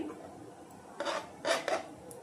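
A knife cutting boiled egg whites into small pieces, quiet clicks and scrapes of the blade on the board in three short bursts, the last two close together.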